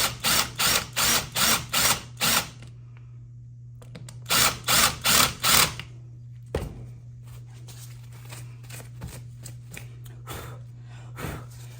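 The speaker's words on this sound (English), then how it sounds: "So you're just gonna drill it out." A power drill whirs in seven quick bursts while drilling out a countersink hole for a tray handle screw, pauses, then runs in four more bursts, followed by lighter clicks and knocks nearby.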